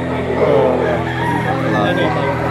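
A year-old gamefowl rooster crows at a Lipa, Batangas poultry sale, its harmonic call rising briefly over steady crowd chatter and nearby voices.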